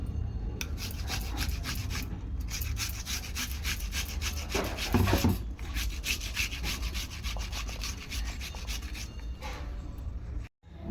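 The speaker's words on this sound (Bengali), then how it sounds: "ভালো করে আমি এরকমভাবে ঘষে নেবো পেঁয়াজটাকে" An onion is grated by hand on a grater for a crab bhapa dish, making continuous rasping, scraping strokes that are loud and close, with a short pause near the end.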